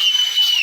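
A single sharp whistle from a man in the audience at a Tamil village stage drama, high and steady, lasting well under a second and sliding slightly downward at the end.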